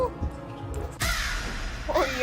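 A crow caw sample cut into a breakcore song, a short harsh call chopped against abrupt bursts of noisy, distorted music, loud and close.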